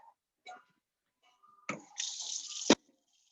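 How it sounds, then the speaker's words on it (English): A cooking pot fills with water from a kitchen tap for making brown rice, with a few small clunks first, then a steady close stream that runs for under a second before stopping with a sharp knock. "First, I'm gonna fill up my pot with some decent amount of water."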